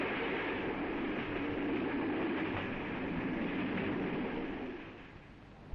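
Trains running on the Dutch railroad in the 1950s give a steady, loud rolling rumble that holds evenly for several seconds and then eases off slightly near the end.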